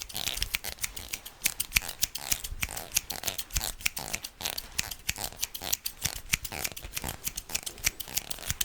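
Scissors snip hair during a barber's haircut, producing dense, rapid, close-up crisp clicks in an irregular rhythm, heard alone with no talking.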